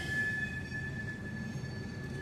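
A Union Railroad train rolls through a wye track junction in East Pittsburgh, making a steady low rumble with a thin, sustained metallic whine above it, heard from a moderate distance.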